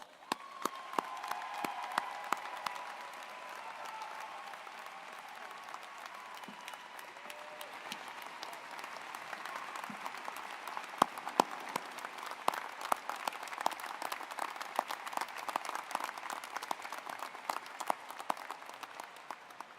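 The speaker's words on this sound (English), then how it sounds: "Please give this class another round of applause." Sustained applause from an audience at a student athlete graduation celebration, a long even wash of clapping that grows denser and louder in the second half, with individual claps standing out near the end.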